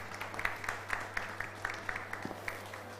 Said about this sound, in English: I'd like to offer a warm applause for the panelists